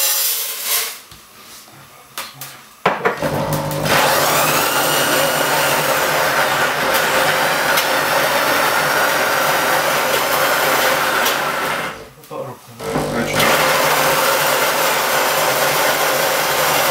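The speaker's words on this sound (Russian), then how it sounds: "Лучший помощник пивовара – это дрель." An electric drill drives a hand grain mill grinding brewing malt, giving a loud, steady high-pitched whine that starts abruptly, runs for several seconds, cuts out briefly, then resumes.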